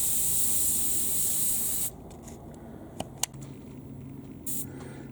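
An airbrush sprays paint at about 15 PSI onto miniature shoulder pauldrons, a close steady hiss that cuts off abruptly, followed by quieter clicks and a brief second burst of spray.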